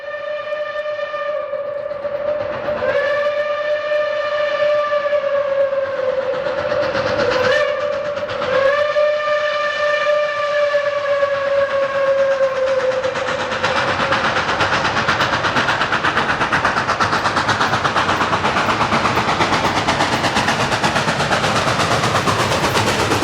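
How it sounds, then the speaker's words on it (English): Reading and Northern 2102, a 1945 4-8-4 Northern steam locomotive, sounds a loud chime whistle in two long blasts with a short break, then the whistle stops and the roar of the engine and clattering rail cars continues. "the flagship steam locomotive of the Reading and Northern, the 2102, a 484 Northern built in 1945"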